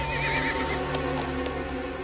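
A large grey cartoon horse neighs loudly and close by, a wavering whinny over steady background noise, with a few faint hoof knocks afterward.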